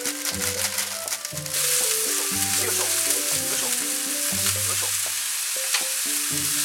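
Bean sprouts and cabbage stir-fry with a loud, crackling sizzle in a hot pan, close up, while background music plays steadily underneath.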